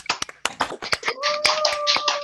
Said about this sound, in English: give a big round of applause for Richard